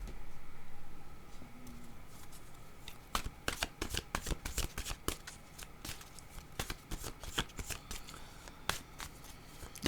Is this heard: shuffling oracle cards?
yes